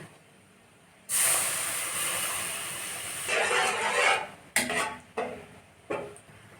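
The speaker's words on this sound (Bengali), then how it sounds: "সুজিটা ভাজা হয়ে গেছে এর মধ্যে আমি দিয়ে দেবো দুধ" Milk poured into semolina fried in ghee in a hot pan sets off a sudden loud, steady hiss that rises and then breaks into shorter sizzling bursts as the pan is stirred, close by.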